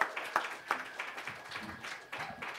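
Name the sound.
audience applause at open mic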